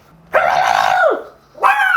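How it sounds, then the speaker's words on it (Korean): A poodle that is wary of strangers barks near and loud, one long drawn-out bark followed by the start of another after a brief gap. "저렇게 짖는 애들 거의 드물어요"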